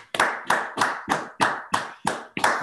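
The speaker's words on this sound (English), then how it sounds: "Please unmute yourself and start clapping in 5 seconds after you are unmuted." Seminar participants clapping over an online video call, heard as a regular series of about eight distinct, evenly spaced claps, fairly close and clipped, with no talk over them.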